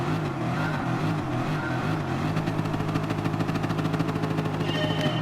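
Group 3 race cars idle and rev together on the starting grid in Gran Turismo Sport, a dense, steady roar of several engines with pulsing throttle blips close by, no voices.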